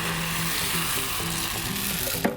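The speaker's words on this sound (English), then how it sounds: "and then we're basically kind of frying it" Steady, close sizzling of chickpea batter frying in hot oil, with a constant crackling hiss and a soft clink near the end.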